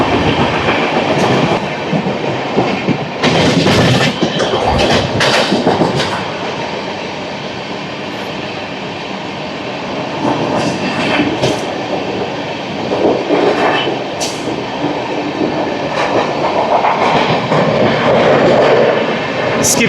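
The Howrah–New Delhi Duronto Express, train 12273, running near Prayagraj, heard from on board as a loud continuous rumble and rattle with clickety-clack wheel beats and bursts of louder clatter throughout.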